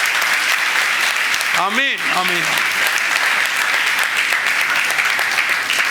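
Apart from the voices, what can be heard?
audience applauding at a church gathering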